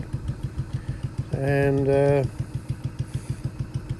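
A Case 224 garden tractor engine putters with a steady rapid pulse while mowing grass, close and moderately loud, with a voice briefly talking over it.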